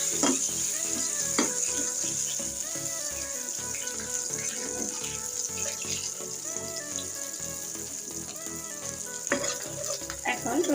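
Peeled garlic cloves fried in oil in a pan, a dense continuous sizzle and crackle with scattered stirring clicks, held at an even, fairly loud level throughout.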